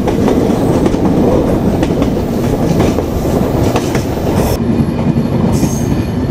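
The Simanta Express runs past Paksey railway station beside the Hardinge Bridge at night, a loud, steady, close rumble of rolling wagons with rhythmic wheel clatter and squeal, with no talking over it.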